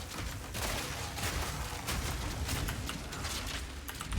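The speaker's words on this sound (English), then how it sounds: "It is fun to set off fireworks sometimes." Fireworks go off in the Path of Exile 2 video game as a dense, continuous crackle of rapid pops and bursts. The crackling stays steady and fairly loud from start to finish, with no talk over it.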